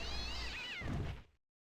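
Kitten meowing in The Great Ace Attorney video game, a single drawn-out, wavering mew that is close and clear and ends abruptly into silence.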